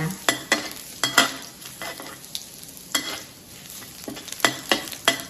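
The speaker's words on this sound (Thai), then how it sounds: "น้ำมันร้อนแล้วเราก็ใส่กระเทียมสับลงไปนะคะ เจียวพอหอมนะคะ" Minced garlic sizzles in hot vegetable oil in a pan, with a steady frying hiss broken by repeated sharp scrapes and clacks of a utensil stirring.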